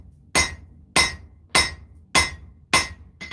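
A hammer strikes a hot knife blade on an anvil while forging a distal taper, ringing out in five evenly spaced, sharp metallic blows with short decays, near and clear with no voices.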